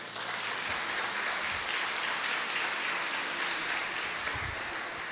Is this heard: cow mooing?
no